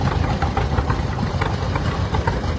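A 1936 John Deere B tractor engine runs steadily during a parade at a power show, a continuous low, rumbling idle-like chug with some broadband noise, close and fairly loud throughout.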